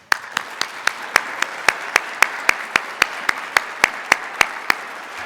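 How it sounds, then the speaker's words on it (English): A single person's steady, evenly spaced claps ring out close and alone at an awards event for HR honorees, about eighteen sharp hits over a few seconds rather than a full crowd. "Let's give all our honorees one more round of applause."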